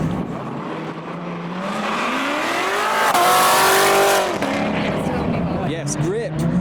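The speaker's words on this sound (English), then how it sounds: "this is going to sound nice. C7 Corvette" A C7 Corvette engine revs and climbs steadily in pitch, loud and close, with tire noise mixed in, while a voice talks over it throughout.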